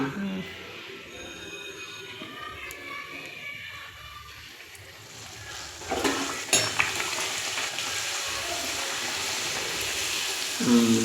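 Chola puri dough dropped into hot oil for deep-frying, a faint hiss that swells into a loud, steady bubbling sizzle with a clatter as it goes in.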